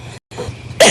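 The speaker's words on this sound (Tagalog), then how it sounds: "Ubo-ubo pa ako." A woman coughs once in a short, close burst near the end, after a moment of low room noise and a brief gap of silence.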